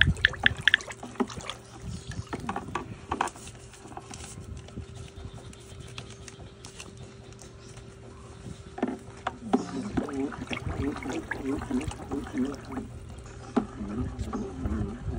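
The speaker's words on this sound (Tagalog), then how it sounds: "Haluin natin siya ng mga 1 minute." Homemade lemon-scented bleach mixture being stirred in a container, liquid sloshing and trickling with knocks from the stirring tool, close by, with a voice speaking over parts of it.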